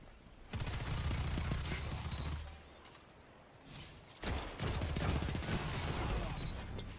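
Bursts of automatic gunfire in a Destiny Iron Banner match: a sustained volley for about two seconds, a brief lull, then a second long barrage, loud and rattling.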